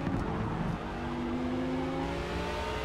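Audi and Porsche race cars battling in a night race at Spa in Forza Motorsport, a loud, sustained engine drone with shifting revs and tire noise, close and continuous without speech.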